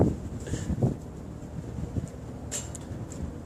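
Steady blustery wind of about 120 km/h roars across the microphone at an airfield, a low rumbling buffet that swells and eases, with faint higher whooshes.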